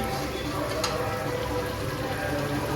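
Food frying in a pan is stirred, with a close, steady, hissing sizzle that runs continuously and evenly without pause for a few seconds.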